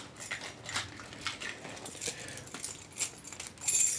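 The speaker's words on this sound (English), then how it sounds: "Are these your keys right here?" A bunch of keys jangles in repeated bright metallic rattles and clinks, close by and fairly steady, with no talking over it.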